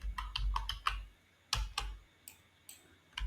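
Fingers type on a computer keyboard in quick bursts of close, crisp clicking keystrokes, separated by short pauses and a few single, heavier key taps.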